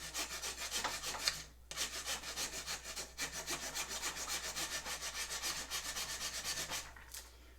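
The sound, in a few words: hand file filing a wooden bow riser grip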